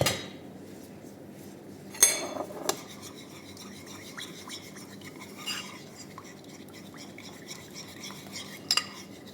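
Salad being mixed in a dish, with soft, steady scraping and stirring of utensils against the dish at close range and a few sharper clinks, with no talking.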